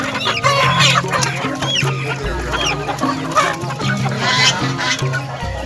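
Free-range village chickens cluck and chatter continuously nearby at a market, a busy overlapping flock with murmuring voices and bustle faintly in the background.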